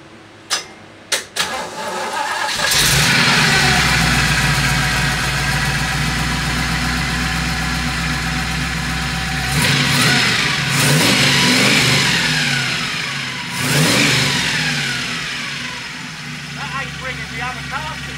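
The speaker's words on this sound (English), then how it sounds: "So start it. Now running, yeah." A 1932 Ford engine with triple Stromberg carburetors cranks with a few sharp clicks, then catches and runs loudly and steadily with occasional revs and a whirring note. A voice speaks over it.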